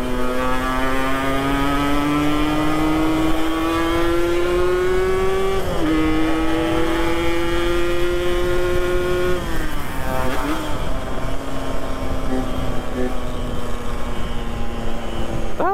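A Yamaha RX King motorcycle engine revs hard at full throttle, a loud, sustained two-stroke whine climbing steadily in pitch, dipping briefly near the middle before rising again, with no talk over it.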